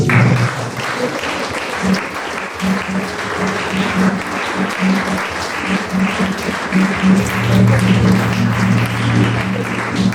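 A church congregation applauds and cheers during a Sunday service, dense sustained clapping filling the room at close range, with voices calling out and a steady hum underneath.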